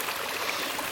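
A small creek flows in elk hunting country, a soft, steady hiss and babble of running water, faint and continuous, heard alone.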